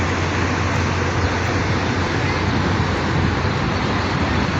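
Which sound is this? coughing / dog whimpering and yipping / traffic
traffic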